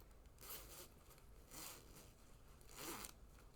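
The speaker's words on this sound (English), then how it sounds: "Okay, so we're going to unzip it first." A fabric face mask's zipper is pulled open in three quick, separate zips, each a short bright rasp at close range with quiet pauses between.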